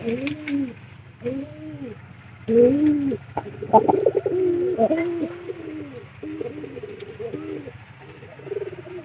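Pigeons coo repeatedly near their loft, with soft, rounded rolling calls in a steady series and a few overlapping birds in the middle, under a low background hum.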